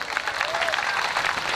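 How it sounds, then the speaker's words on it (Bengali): An audience claps at a live evening stage performance in Naogaon, a dense, fairly quiet burst of applause that holds steady for the whole short stretch. "একটা জোরে হাততালি হয়ে যাক।"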